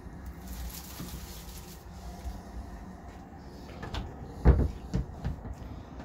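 An interior door to the bedroom of a brand-new Elddis caravan swings shut with one firm clunk near the end, followed by a small rattle, against an otherwise quiet interior.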